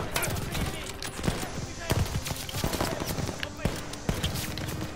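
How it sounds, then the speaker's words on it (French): Suppressive gunfire in the Call of Duty Vanguard campaign: rapid, continuous automatic bursts and scattered shots crackle throughout, dense and fairly loud, with battlefield din beneath. "Tire de suppression maintenant!"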